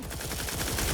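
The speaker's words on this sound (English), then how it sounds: "That sounds like a turret." Rapid automatic turret fire in The Outer Worlds 2, a dense steady stream of close, loud shots filling the whole moment without pause.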